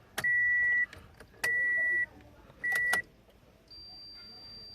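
A 2007 Toyota Fielder sounds its warning chime as the key goes in: three short, clear electronic beeps a second or so apart, then a fainter, longer steady tone, all inside a quiet cabin.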